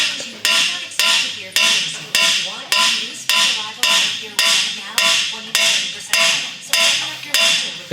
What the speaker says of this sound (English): Hammer the shit in there